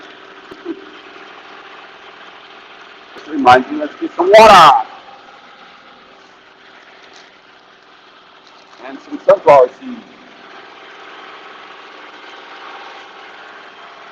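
A tractor engine idles as a low, steady hum that runs the whole time. Someone talks over it in a few short bursts.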